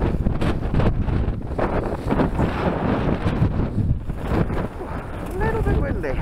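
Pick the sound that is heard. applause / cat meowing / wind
wind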